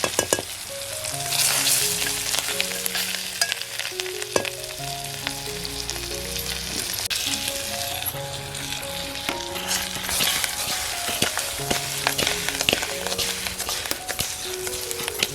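Masala fries in hot oil as a tempering for a Konkan-style fish gravy, with a dense close sizzle and frequent clacks and scrapes of stirring. A faint humming tone runs underneath.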